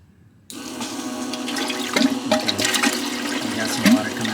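Water surges back through a homemade air-to-water intercooler system on a supercharged C6 Corvette, driven by a pump: after brief quiet it starts abruptly and keeps up a loud, gushing, flush-like rush with a low hum underneath.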